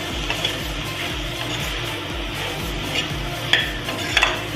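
Pork and spices stir-fried together at high heat in a pan, giving a continuous sizzle with rhythmic scraping and stirring strokes, close and fairly loud, with no talking.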